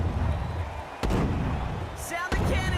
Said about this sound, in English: Sound the cannons, baby.